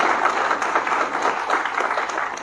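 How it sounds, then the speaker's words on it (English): A crowd at an academic event applauding steadily, dense clapping at moderate volume throughout. "Come on, give her a big round of applause."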